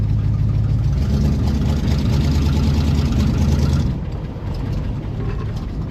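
Pontiac Grand LeMans engine with a carburettor problem running roughly nearby, a loud rumbling idle that holds steady and then drops in level partway through, no voices.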